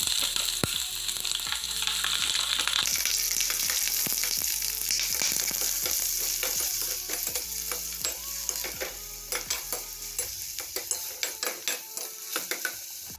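Sliced onions fry and sizzle steadily in a hot pan for an aloo paratha filling, a dense crackling hiss with rhythmic scraping stirs from a spatula and occasional clinks of metal on the pan, thinning out toward the end.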